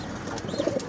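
Pigeons in a breeding room give a brief, soft cooing burst near the end, quiet against a faint room hush.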